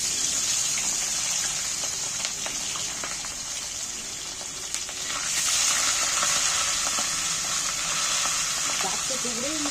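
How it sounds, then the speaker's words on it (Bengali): Turmeric-coated pieces of katla fish sizzle in hot oil, a steady bright crackle that swells louder midway as more pieces go in, close and continuous. "মাছটা হলুদ মাখিয়ে এবার আমি তেলের মধ্যে ছেড়ে দিই।"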